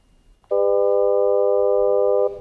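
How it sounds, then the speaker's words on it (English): A steady synthesized tone made of several stacked pitches starts abruptly, holds evenly for about two seconds, then cuts off, loud and alone. "let's listen to the complex tone again now"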